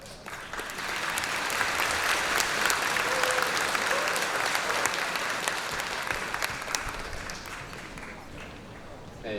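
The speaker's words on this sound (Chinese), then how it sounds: "让我们用最热烈的掌声来欢迎成功高中弦乐团的廖武俊廖老师" A high school audience gives loud, sustained applause for a school string orchestra's conductor at a coming-of-age ceremony performance, dense clapping filling the hall for several seconds before tapering slightly.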